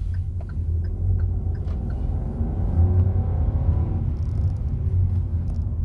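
A 2021 Hyundai i20 with the 1.0 TGDI engine accelerating, heard from inside as a steady low engine rumble that rises in pitch as it pulls through the gear.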